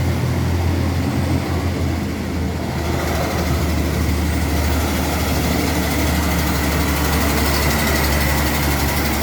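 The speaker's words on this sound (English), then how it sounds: "Truck they have an exhaust leak" Heavily loaded truck with an exhaust leak climbing a steep hill road in Montego Bay, a steady, loud diesel drone with a constant low rumble that lasts throughout.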